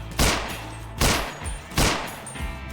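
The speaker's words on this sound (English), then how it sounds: "I love the gunshot sounds, it feels punchy." Three punchy Glock pistol shots from a Half-Life 2 mod game crack out at roughly even intervals, each a sharp loud blast with a brief decaying tail.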